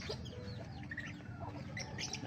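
A golden bulik gamefowl rooster clucks softly in a backyard, a few short, faint clucks over quiet ambient background.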